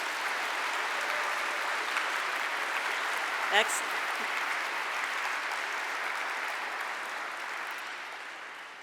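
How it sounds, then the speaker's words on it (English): A steady round of applause from an audience in a hall at a National Science Bowl middle school championship, sustained and fairly distant, with a brief spoken word cutting through partway. "Please join me in a well-deserved round of applause for everybody who helped make this happen."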